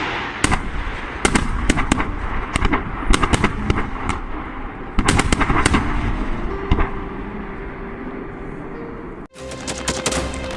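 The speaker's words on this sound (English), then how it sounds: "This are Russian Tu-1A thermobaric MLRS firing at targets at close range." Russian TOS-1A thermobaric multiple rocket launcher firing at targets at close range, a rapid series of loud bursts and booms, some tightly clustered, over a continuous rumble, with a final sharp blast near the end.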